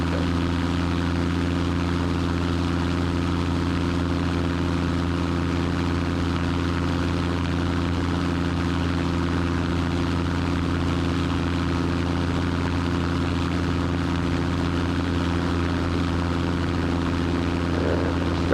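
Seaplane propeller engine droning on the water, a loud steady close-up hum with strong low harmonic tones held continuously without a break.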